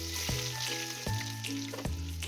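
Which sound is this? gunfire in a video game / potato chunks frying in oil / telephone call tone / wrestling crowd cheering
potato chunks frying in oil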